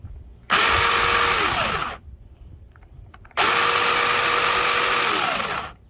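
A Ryobi 18V 8-inch battery pruning chainsaw runs in two loud bursts of about one and a half and two and a half seconds, each starting abruptly with a high whine that settles to a steady pitch, separated by a short quiet gap.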